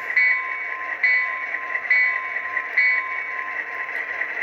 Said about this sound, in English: F1 is the bell.